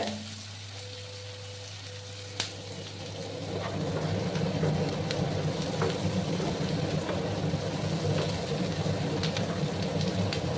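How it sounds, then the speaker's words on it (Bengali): Chopped green chillies hit hot oil in a pan for potato cutlets: a single clatter, then a quiet lull before a loud, steady sizzle swells up and keeps frying to the end. "ভাজা ভাজা করে নেব আর দেখো তিন চারটা কাঁচা লঙ্কা কেটে রেখেছিলাম সেগুলো দিয়ে দিলাম"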